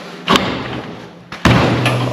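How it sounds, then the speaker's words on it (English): A door with a rusted latch is pushed shut, giving a quick thud followed by a louder, heavier slam with a short rattling ring, close by and without talk. "First I'll shut the door."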